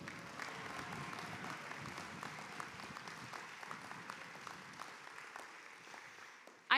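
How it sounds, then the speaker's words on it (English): Commencement graduates at a masters and PhD ceremony applaud their supporters in a soft, even wash of clapping from a large hall, continuing steadily for several seconds. "Let's give all of your supporters,"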